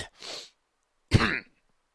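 Two short fake coughs, one breathy and one sharper, separated by silence and sounding close up and deliberate.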